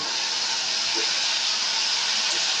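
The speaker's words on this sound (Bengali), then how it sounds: "ভেন্ডিগুলোকে আমি একটুখানি ভালো করে ভেজে নেব।" Okra (ladies finger) sizzles in a hot pan, giving a steady, close, loud frying hiss that holds evenly throughout, with no voices.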